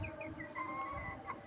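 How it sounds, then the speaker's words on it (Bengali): Two hens in a poultry yard clucking nearby, a few short, moderately quiet calls in quick succession over a low background hum, with no voices. "মুরগি দুইটা"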